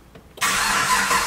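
A Chevrolet Camaro with a straight pipe exhaust fires up after a brief quiet moment, jumping straight into a loud, raw, steady roar close by.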